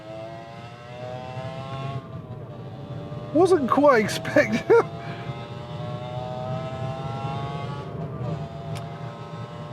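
A 2021 Seat Arona's engine drones steadily with a brief rising surge of revs as it accelerates hard through the gears, while someone speaks a few words over the noise.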